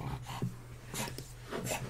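A dog reacts to animals on a screen with short, soft whimpers and panting breaths, close and quiet in a room, with no talking.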